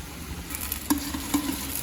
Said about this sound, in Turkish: Sarımsaklar da biraz kavrulup aromasını verecek.